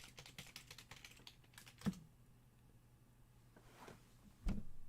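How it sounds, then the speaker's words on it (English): Someone types a password on a computer keyboard in a quick run of light clicks, then a pause and a few louder isolated taps, all faint and close with no talking. "I got to type in my password."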